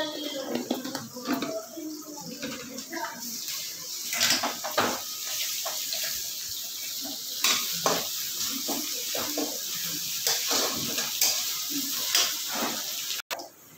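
Onions fry in a pan with turmeric and ginger garlic paste, giving an uneven sizzle with scraping and stirring clatter, while a person talks over it.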